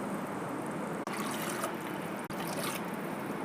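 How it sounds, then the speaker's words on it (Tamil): Milk pours in a steady stream into a pot with a soft, hissing trickle, fairly quiet and close, with no talking. "இப்போ 1 ஆளாக்கு பால் ஊற்றிக்கலாம்."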